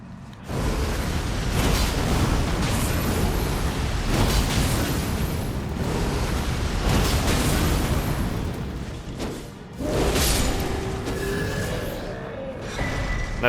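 Fire attack burning putrid, rotten enemies in the Elden Ring video game, a sustained loud roaring blaze with repeated explosive bursts over about thirteen seconds, briefly dropping off before flaring again.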